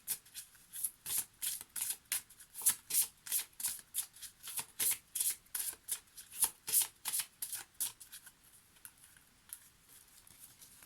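Oracle cards shuffled by hand for a reading, a steady run of about twenty crisp riffling bursts in quick rhythm, close and clear, tapering off near the end with no talking.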